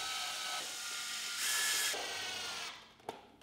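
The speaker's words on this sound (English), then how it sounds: "Now reinstall the four Phillips screws." A driver sends four Phillips screws into the evaporator fan cover of a Samsung freezer, a steady mechanical whir that swells louder midway, then drops away to a faint click near the end.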